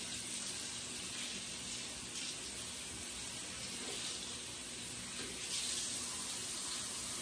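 Tap water runs steadily into a bathroom sink while someone rinses an aloe vera face mask off their skin, a continuous close hiss with no talking.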